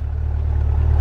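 A 2020 Chevrolet C8 Corvette engine revs up close, a deep throbbing idle that climbs in loudness over a brief second, heard alone without voices.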